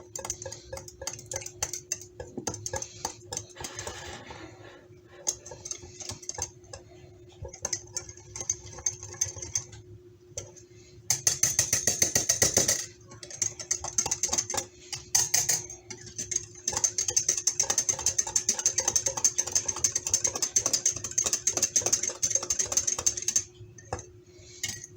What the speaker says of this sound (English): I'm just going to use my whisk here.